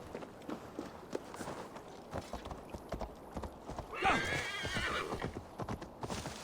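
In Assassin's Creed Valhalla gameplay, rhythmic hoofbeats clip-clop steadily while a horse lets out a whinny midway, with faint background sounds underneath.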